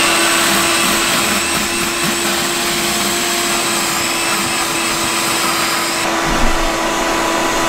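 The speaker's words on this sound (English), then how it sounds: "I forgot to turn on the vacuum." A vacuum cleaner runs steadily with a loud whining motor hum while cleaning the carpet inside an Acura TL car, with a brief shift in tone near the end.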